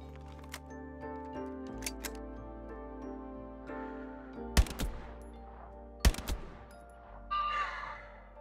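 Scattered sharp shots from a Grease Gun submachine gun in Hell Let Loose ring out over a steady droning game background, with a few loud isolated bursts and a brief rushing noise near the end.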